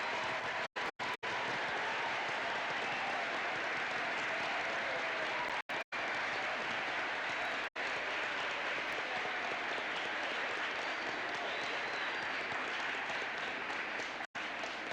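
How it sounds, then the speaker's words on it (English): An audience applauds after a Martin Luther King Jr. speech, steady, dense clapping from a large crowd that rolls like a wave for the whole stretch, loud and continuous with a few brief dropouts. "Listen to the sound of that clapping. That was like a wave."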